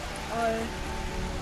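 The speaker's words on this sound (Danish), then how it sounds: "det regner lidt, men det er kun skønt." Light rain falls steadily at Nyborg Strand, a soft, even hiss of drops on the beach surroundings, with a voice speaking briefly over it.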